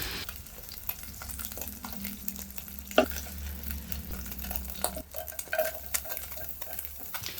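Meatballs of ground meat frying in a pan, a steady sizzle with a clatter of utensil scraping and flipping around the middle, no talking.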